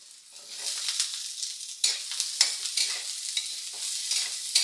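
Carrot sautés with garlic in a hot pan, a bright hissing sizzle that rises after a quiet start, broken by sharp bursts as the pieces are stirred and tossed, no talk.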